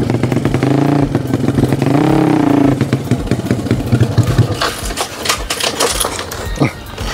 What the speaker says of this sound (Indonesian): Ini kan motornya Ayep